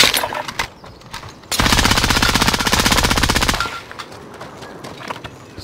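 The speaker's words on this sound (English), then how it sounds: "Shooting." Rapid automatic gunfire from a video game erupts in one loud, close burst of about two seconds, with quieter game sounds before and after and no talking.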